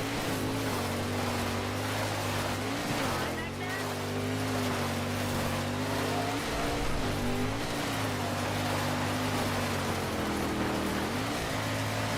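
A race car engine in the rally game DiRT 2, heard as a steady droning roar that shifts pitch with gear changes and throttle lifts during an overtake, loud and continuous.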